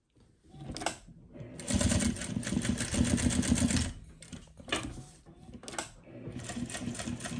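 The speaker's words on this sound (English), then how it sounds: "This is a serious heavy duty machine." A heavy-duty machine, likely a sewing machine, runs in dense rapid bursts of rhythmic mechanical clatter, loud and close, with brief pauses between runs and no clear talking.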